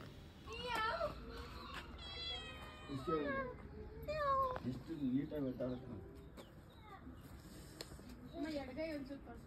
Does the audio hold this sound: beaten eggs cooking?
no